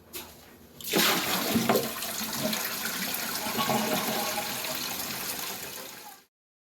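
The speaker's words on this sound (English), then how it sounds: "then we will flush it once just to make sure everything is working correctly" A toilet flushes after a Glacier Bay fill valve repair, a loud close rush of water that starts abruptly and runs steadily for about five seconds before cutting off.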